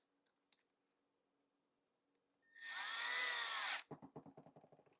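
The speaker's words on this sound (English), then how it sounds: "let's grab a Phillips bit and tighten her up" A power drill with a Phillips bit drives screws into an Echo hedge trimmer: one loud, close whirring burst about a second long, then a rapid series of ratcheting clicks as it stops, with faint taps before.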